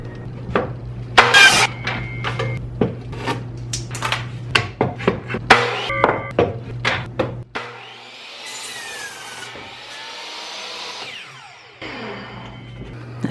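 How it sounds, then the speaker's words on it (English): Wooden 2x4 boards being cut to 41-inch lengths for a DIY bench, a run of close rasping saw strokes followed by a longer whining cut that trails off into a low hum. "I'm going to cut the 41-inch boards and then go from there"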